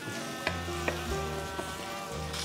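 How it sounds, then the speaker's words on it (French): Prawns marinated in pear liqueur pan-frying in a very hot pan with a little olive oil, a steady close sizzle with a few sharp clicks and pops, alone with no talk. "Il nous reste maintenant à poêler les gambas que l'on a fait mariner avec la liqueur de poire"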